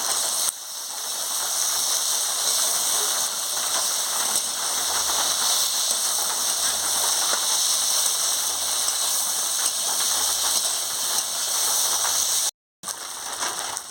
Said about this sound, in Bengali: মশলাটা আলু পটলটা দিয়ে দিচ্ছি মশলার সঙ্গে দিয়ে ভালো করে কষিয়ে নিচ্ছি